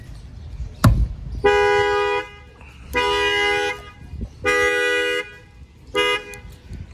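A 2020 Honda Accord with an add-on shock sensor alarm, set off by a sharp knock on the car, then blaring four loud, close horn-like honks in a regular pattern with short pauses between.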